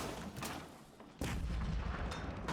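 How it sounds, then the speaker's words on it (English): A cannon fires in a video game as a building upgrade completes, one sudden loud boom cutting in over background game sound and then holding as a dense rumble. "Oh, I guess when it's done upgrading, it just fires off a cannon."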